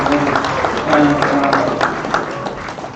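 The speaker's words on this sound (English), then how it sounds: "If we can have a huge round of applause for this senior class." Applause for a senior class at a sports banquet, a crowd clapping loudly and steadily up close, with voices talking over the clapping.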